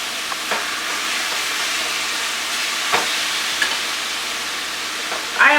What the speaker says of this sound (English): Then I will cover it and cook for about 15 minutes, and during this time the meat will release its juices